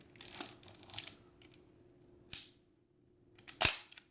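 An Exakta VX 1000 SLR camera shutter is released at 1/1000 speed, giving several sharp mechanical clicks and a louder snap near the end, close and alone in a quiet room.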